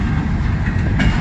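A westbound double-stack intermodal freight train rumbles past close by, a dense continuous roar of wheels and rail noise with faint clatter.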